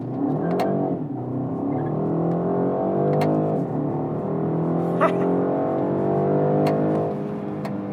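A BMW 128ti front-wheel-drive hatchback accelerates hard from inside the cabin, its engine note climbing in rising harmonic sweeps with short breaks at gear changes, under a steady road rumble.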